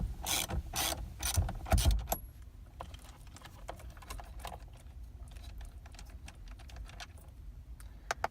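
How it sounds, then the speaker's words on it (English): Ratchet wrench loosening the steering wheel nut on a 2007-2013 GM truck. Loud rapid ratcheting bursts come first, then lighter, quicker clicking follows as the nut spins off. "Continue removing the nut till it's all the way off."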